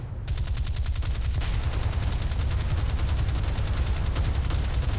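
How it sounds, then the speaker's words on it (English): A ship's main gun fires automatically in a naval video game, a dense rapid series of loud booming shots repeating in a steady rhythm for several seconds. "It looks like the main gun does fire on auto when you switch to the secondaries"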